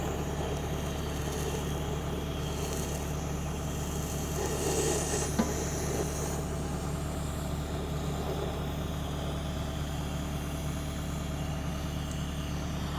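A cutting torch burns through thick steel, giving a steady, close roaring hiss over a constant low rumble that holds unchanged throughout, with no voices.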